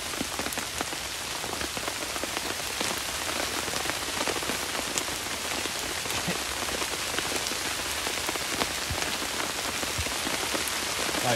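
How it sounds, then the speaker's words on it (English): Heavy rain pours steadily on woodland during a solo wild camp, a dense, loud, unbroken patter of drops on leaves and gear with no voices. "It's really raining now."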